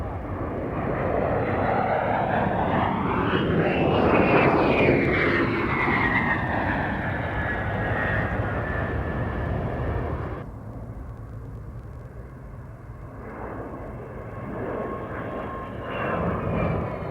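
A military transport aircraft flies past at the Mildenhall Air Fete air show, a loud roaring engine pass whose pitch sweeps as it goes by, then eases to a quieter, distant rumble.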